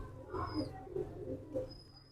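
A Teddy pigeon with a full green throat, held in hand, gives a few soft low coos in quick succession, close and fairly quiet.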